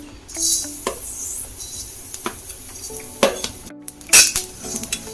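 Dill seeds being dry-roasted in a pan: a spatula scrapes and clinks against the metal in irregular strokes, close by, over a faint sizzle.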